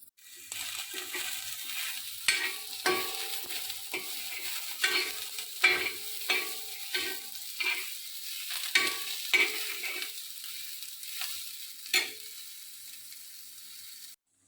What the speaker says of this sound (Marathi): मोठी इलायची आता मी हे भाजून घेणार आहे तव्यावर तेल घातलेलं त्याला भाजून घेते